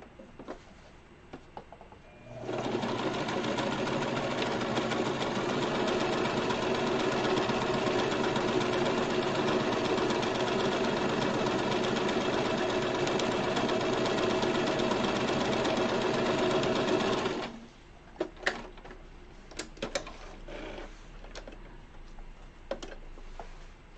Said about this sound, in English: And I do love my machine. It's a Husqvarna Viking.